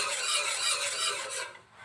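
A spoon scrapes and stirs a cooking mango and haan pudding mixture in a pot, a continuous close rasping rub that eases off at the end, with no talk.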